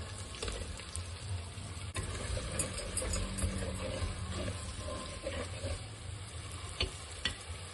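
Tomatoes going into sautéed onions and garlic frying, probably in a clay pot, with a continuous sizzling hiss and stirring scrapes, a sharp clack near the two-second mark, no talking.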